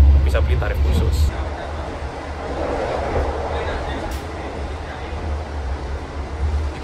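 KA Argo Lawu executive express train running fast past Brambanan station, heard from inside the car: a steady low rumble and rolling rush holds throughout, with a voice speaking over it at the start.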